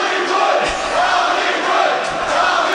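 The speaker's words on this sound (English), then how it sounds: "thank you guys so much for this chant" Loud live podcast audience chanting in unison, a dense crowd roar with rhythmic swells and a few stomps or thumps beneath.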